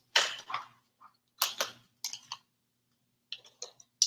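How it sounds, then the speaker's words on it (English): A deck of cards is shuffled in short, crisp bursts of riffling and clicking with brief pauses between them. The sound is close and fairly quiet, and no one speaks. "I'm gonna keep shuffling."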